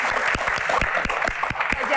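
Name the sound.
audience applause at a concert Q&A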